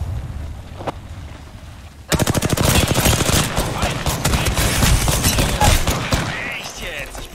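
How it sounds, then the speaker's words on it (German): Machine gun fire in a video game: after a quiet stretch with a faint voice, a loud sustained burst of rapid automatic gunfire rattles on for several seconds. "Ich werde beschossen!"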